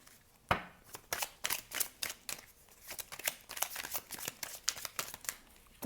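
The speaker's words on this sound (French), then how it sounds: "Et sur celui-là, on va tirer donc deux cartes." Cards from a tiny tarot deck are handled and drawn in a run of soft, quick flicks and snaps, close and quiet, with no talk over them.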